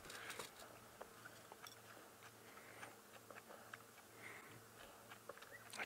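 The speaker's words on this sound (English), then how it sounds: "just trying to keep quiet so you can hear the crunching" Soft, irregular crunching and gnawing as young animals chew on bones, quiet and close, with no talking.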